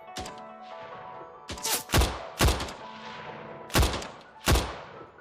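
Gunfire in the VR shooter Better Than Dead: five or six loud, sharp shots ring out at uneven intervals, each with a booming low thump and a long echoing tail, over a steady background drone.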